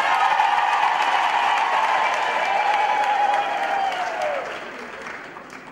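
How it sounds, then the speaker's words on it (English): Congregation applauding during a wedding church ceremony for Ayanda and Neil, a steady wash of clapping with some cheering and a sustained tone under it, easing off toward the end. "a round of applause"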